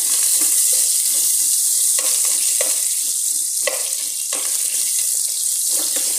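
Garlic, onion and ginger sauté with chicken for tinola, a loud, continuous bright hiss of frying close up, with soft stirring scrapes and clacks breaking through at intervals.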